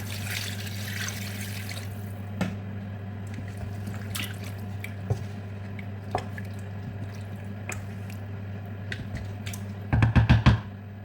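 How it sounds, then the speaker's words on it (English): A low steady hum with scattered clicks and drips, then a short burst of water splashing into a red oil stew cooking in a pot near the end. "So I will add some water to it to cook."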